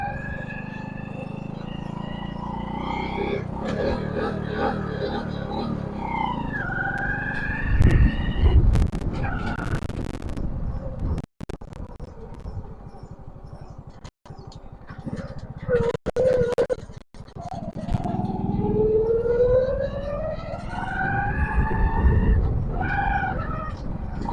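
A small vehicle is ridden close by, its engine revving up and down through rising and falling pitch sweeps with tyre scrubbing, while people talk over it.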